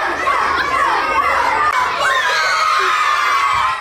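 A zoo crowd with many children's voices reacts to diving polar bears with loud, continuous shouts, squeals and cheers close by.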